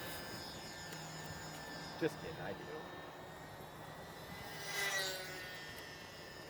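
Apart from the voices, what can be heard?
Horizon Hobby Carbon Cub SS UMX model plane flying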